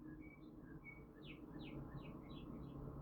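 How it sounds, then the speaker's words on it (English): Several small birds chirp in short bright tweets over a low, steady background rumble, the calls coming in quick bursts that grow slightly busier toward the end. "You hear them birds?"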